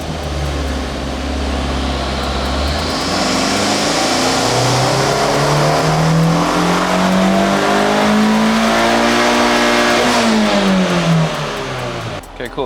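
A car engine on a dynamometer with its ignition timing advanced, holding a loud, steady pull as its pitch climbs through the revs before easing off near the end.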